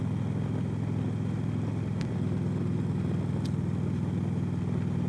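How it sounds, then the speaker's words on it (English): A low, steady motorcycle engine rumble drones close by, with a couple of brief sharp clicks partway through. "riding our motorcycles in New England."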